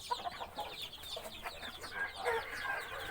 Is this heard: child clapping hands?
no